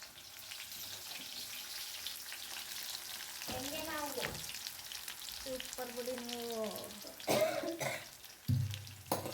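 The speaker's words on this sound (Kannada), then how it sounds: "ಸಾಸಿವೆ ಕಾದಿದ ನಂತರ ಬೆಳ್ಳುಳ್ಳಿ ಹಾಕ್ಕೊಳ್ಳಿ ಬೆಳ್ಳುಳ್ಳಿ ಈರುಳ್ಳಿ ಸ್ವಲ್ಪ ಕರಿಬೇವಿನ ಸೊಪ್ಪು" Garlic, onion and curry leaves fry in hot oil after mustard seeds, giving a steady broadband sizzle throughout with a few brief coughs and clinks near the end.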